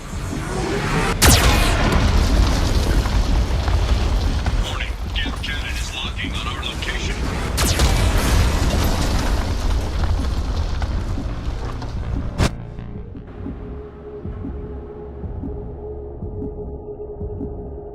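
A Geth cannon fires in the video game Mass Effect 2, giving a loud, continuous rumble of booming blasts and heavy impacts that cuts off abruptly into a low hum.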